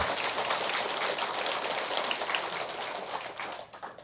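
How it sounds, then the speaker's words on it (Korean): Audience applause in a hall during a Buddhist monk's Sunday dharma talk, a dense, steady patter of many hands clapping at once that holds for several seconds and thins slightly toward the end, with no voices over it. "세 번째 박수가 제일 많이 나왔어요."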